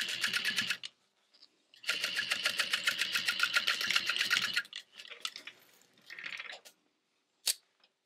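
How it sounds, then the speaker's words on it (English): A sewing machine stitching across the corner of a backpack runs in two longer bursts of rapid, even needle clatter, then gives several shorter, fainter runs and one final brief burst, with quiet pauses in between. "And sewing from one stitch line to the next"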